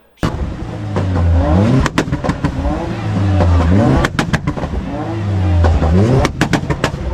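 An Audi engine fitted with an MG Motorsport exhaust tip revs repeatedly in close, loud cycles, each rise followed by sharp pops and crackles on the overrun.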